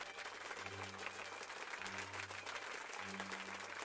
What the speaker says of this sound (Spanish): ¿Quién sacó los aplausos?